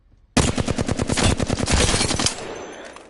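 Rapid automatic gunfire from an R99 submachine gun in Apex Legends bursts in loud and close, a dense stream of shots for about two seconds before fading into a ringing tail.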